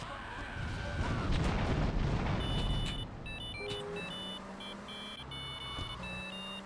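In GTA III, a rocket launcher is fired at an enemy: a loud rumbling blast and boom fill the first few seconds, followed by quieter game beeps and tones.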